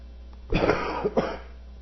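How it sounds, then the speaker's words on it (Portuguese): A harsh, close cough burst followed by a second shorter cough, then quiet room tone. "Perdão, essa tosse está que está."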